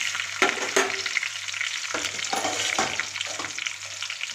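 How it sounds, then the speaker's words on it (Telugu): Onions, green chilies and curry leaves sizzle in hot oil in a pan for wheat rava upma, with a steady close crackle broken by a few sharp stirring scrapes. "కొద్దిగా కరివేపాకు వేసి వేయించుకుందాం"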